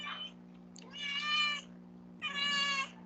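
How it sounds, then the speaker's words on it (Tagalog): A pet cat gives two drawn-out, fairly loud meows about a second apart, with a faint murmur and a steady electrical hum in the background. "Meow-meow daw, sabi ng pusa ko."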